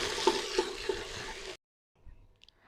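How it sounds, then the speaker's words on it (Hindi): Browned onions with ginger garlic paste fry in a pan, a close, steady sizzle with a few stirring clicks lasting about a second and a half before cutting to near silence. "मैं इसमें 2 टेबलस्पून अदरक लहसुन का पेस्ट ऐड करूंगी और इसको भी अच्छे से इसमें फ्राई कर लूँगी।"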